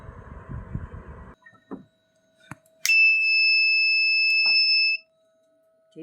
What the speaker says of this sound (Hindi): साथ अलार्म ऑन हो जाएगा और साथ ये मेंशन कर देगा लिखा कि फायर डिटेक्टेड